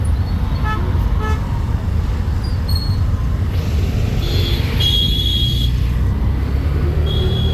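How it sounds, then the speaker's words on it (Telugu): Heavy road traffic in Bangalore, heard from an auto rickshaw, gives a loud, constant engine rumble while several car horns toot in short bursts, some near and some farther off. "ఎప్పుడు హెవీ ట్రాఫిక్ ఏరియా ఇది."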